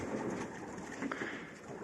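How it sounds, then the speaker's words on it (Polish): Pigeons at a dovecote cooing softly, faint low coos over a steady rustling, hissing background, close but quiet and brief. "Tutaj gołąbki na mnie czekają."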